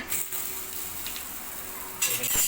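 Thalipeeth (dhapate) flatbread frying in a little oil in a home kitchen, a steady close sizzle that swells into a louder, brighter hiss near the end.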